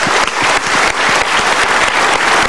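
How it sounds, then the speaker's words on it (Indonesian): Studio audience applause on an Indonesian motivational talk show, a dense, steady wash of many hands clapping close and loud, filling the whole moment with no voices. "kita berikan tepuk tangan untuk mereka"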